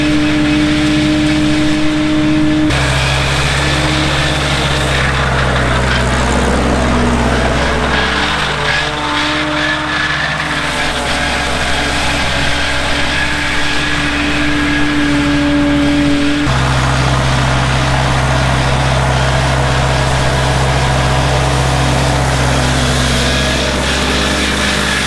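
A tractor with a mower attached cuts pasture on a dairy farm, giving a loud, steady engine drone with a rumbling low hum that shifts slightly in tone as it works, heard close and alone.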